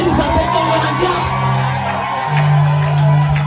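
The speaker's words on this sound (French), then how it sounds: "Est-ce que quelqu'un peut pousser des cris de joie?" Church congregation at a Sunday thanksgiving service raising shouts and whoops of joy, a loud sustained crowd roar with layered voices and cries throughout.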